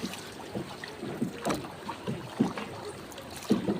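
A small wooden outrigger boat moves through choppy water in the aftermath of Typhoon Christine, with rhythmic sloshing and thumps of waves against the hull, paddle strokes, and steady wind buffeting the microphone close by.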